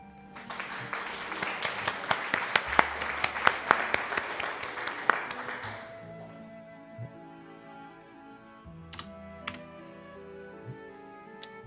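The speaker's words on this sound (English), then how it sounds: "Thank you for the applause." A brief round of applause in Final Fantasy III Pixel Remaster, many hands clapping for about six seconds, then fading into quiet music with a few sharp ticks.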